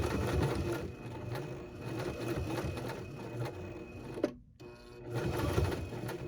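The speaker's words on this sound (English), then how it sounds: "And then I'm gonna back stitch." A Baby Lock Zest sewing machine back stitches across a pants pocket, a continuous fast mechanical whirr with rhythmic needle ticking that pauses briefly, then resumes at close range.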